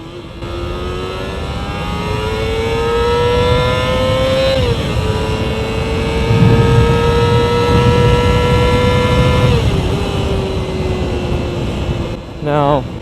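A Yamaha FZR250 motorcycle rides at speed, its high-revving engine whining steadily with two brief dips between gears, loud and close with wind rush underneath and a short blip near the end.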